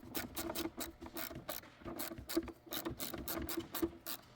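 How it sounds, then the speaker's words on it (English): An 8mm ratchet clicks steadily as it turns the headlight level screw on a Cadillac DeVille, a close, dense run of rapid pawl ticks in uneven bursts, with no talking. "we're gonna take an 8mm and we're gonna put it on that screw, and we're gonna screw it until it goes to level."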